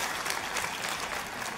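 A church congregation claps together in a dense, continuous burst of applause, loud and close, with no pauses across the short stretch.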